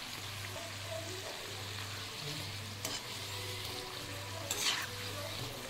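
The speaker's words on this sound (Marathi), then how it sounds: "थोडेसे गुलाबी कलर येईपर्यंत असे परतत राहायचे। चारी बाजूने असे हलवून घ्यायचे चांगले।" Fried modak made from maida sizzle steadily in hot oil in a pan while being stirred, with a continuous close frying hiss and a soft scrape or two and no talking.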